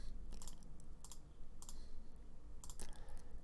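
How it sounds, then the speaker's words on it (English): A left mouse button clicks repeatedly while someone works in OpenToonz animation software: about half a dozen sharp, light clicks at irregular intervals over a steady background hiss, with no talk. "All I'm doing is left mouse clicking."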